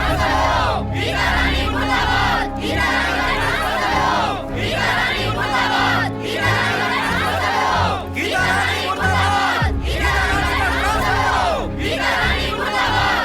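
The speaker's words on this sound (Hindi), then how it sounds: "वो मेरे खिलाफ नारे लगा रहे हैं" A large village crowd chants slogans against the school principal in loud, rhythmic shouted bursts, repeating every couple of seconds with short gaps between waves.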